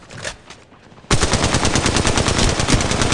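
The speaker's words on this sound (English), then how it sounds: "Opening fire." Rapid automatic gunfire in the mobile video game Apex Legends Mobile, loud and sustained, bursting in after a second of quieter game sounds and hammering on without pause.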